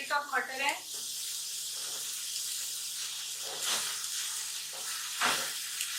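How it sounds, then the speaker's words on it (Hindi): Mixed vegetables and peas fry for chicken fried rice, giving a loud, hissing sizzle that holds steady, with a voice heard at the start and again briefly later. "वेजिटेबल्स को इस तरह से हमने फ्राई करना है।"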